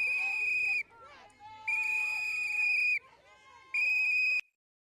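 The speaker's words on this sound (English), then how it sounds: "that fucking whistling" Shrill, piercing whistles from protesters at a street demonstration, sounding in three long sustained blasts with short gaps, loud and close amid faint crowd noise.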